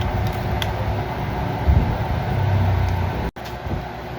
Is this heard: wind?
no